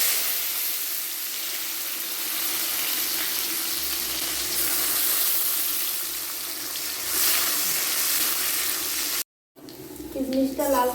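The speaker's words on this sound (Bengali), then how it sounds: "কিশমিশটাকে আমি যে জলে ভিজিয়ে রেখেছিলাম সেকে আমি তেলে ভেজে নিচ্ছি" Soaked raisins fry in hot oil in a kadai with a steady, close hiss and sizzle, a broad wash of frying noise that swells near the end before a brief cut.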